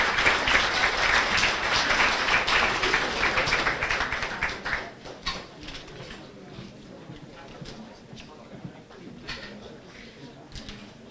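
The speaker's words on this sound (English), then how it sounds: "So give these JV players, managers, a round of applause." At a high school sports banquet, the audience gives a round of applause for JV players and managers: dense clapping for about four seconds, then thinning to scattered claps and fading out.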